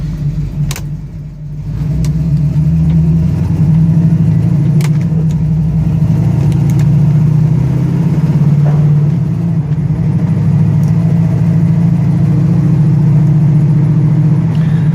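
A 1969 Pontiac Firebird with a 400 engine drives on the road during a test drive, its engine producing a steady, loud low drone that stays even throughout with no talking.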